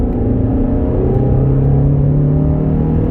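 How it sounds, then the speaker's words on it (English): A K-series engine in an MG ZS 120 revs hard and steadily, with a loud, close, continuous rumble and rising engine tones lasting throughout and no talk over it. "That's really how a K-series should sound and how it should go"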